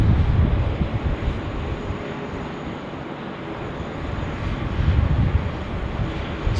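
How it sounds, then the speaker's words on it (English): A police air support helicopter hovers near Sydney Airport, its engine and rotors making a continuous droning rumble that holds steady with slight swells, and no one speaks. "See Pol Air aircraft just hovering there"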